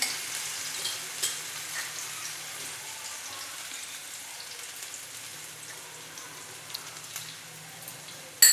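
Thin handvo batter with vegetables and sesame seeds on top sizzling in a pan, a soft, even crackling hiss with occasional small pops, fairly quiet and continuous.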